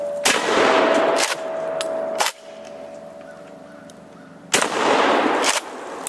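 A UTS-15 shotgun fires loud, close blasts at an old empty propane tank outdoors. Two sharp reports come in quick succession, then a pause with faint background hum, then another booming shot.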